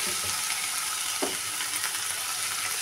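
Onion, garlic and ginger fry in a little oil in a wok as a mutton filling is started, giving a steady close hiss of sizzling throughout with a few light stirring scrapes and no talking.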